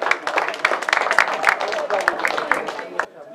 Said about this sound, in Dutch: Een groot applaus